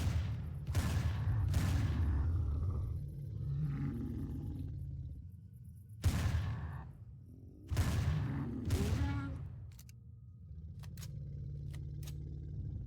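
Weapons fire at spawners in the Empyrion game, with several heavy blasts and long booming roars separated by short quieter gaps and a few sharp clicks near the end.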